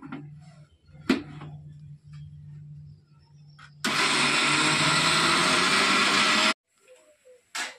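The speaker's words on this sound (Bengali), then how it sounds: "এবার আমি কলাইটা প্রথমে মিক্সিতে ঘুরিয়ে নিই" A kitchen mixer grinder spins soaked kalai lentils in one loud, steady whirring burst of a few seconds, close by, with a low hum and a few clicks before it and a sudden stop afterward.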